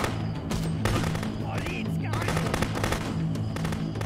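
Rapid automatic gunfire from the police smuggling-inspection game Contraband Police, with loud repeated bursts of shots over a steady low hum and background game sounds.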